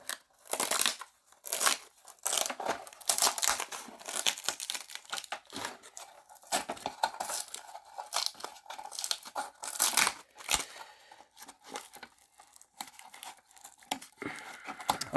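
Strips being peeled off a dirty BEAMZ fluorescent light fixture, a rapid series of close tearing and crinkling bursts, loud and irregular, with short pauses between pulls.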